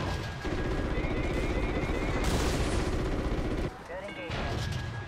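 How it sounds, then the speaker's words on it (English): A helicopter-fired missile launches in COD: Ghosts, a loud sustained roaring whoosh over rotor and battle noise, with radio voices talking over it. "Missile away."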